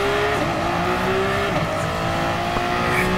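Race car engine in the Gran Turismo video game, a seven-gear car: a loud, steady high-revving drone that holds up in a high gear, with faint tire noise and no talking.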